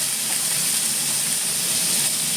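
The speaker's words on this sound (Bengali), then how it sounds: "পনিরটাকে একটু হালকা হালকা ভেজে নেবো" Paneer lightly frying in oil in a pan, a steady, even sizzling hiss that runs on without a break.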